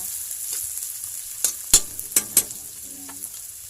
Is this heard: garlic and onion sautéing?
yes